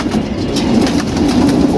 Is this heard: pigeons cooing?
yes